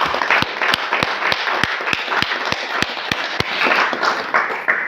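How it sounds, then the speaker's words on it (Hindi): Applause from a crowd at a direct-selling business seminar, with sharp, evenly spaced claps landing in a steady rhythm over a dense wash of scattered clapping, loud and sustained throughout. "मैं चाहूंगा इस बिजनेस के सम्मान में जबरदस्त तालियों का स्वागत करें।"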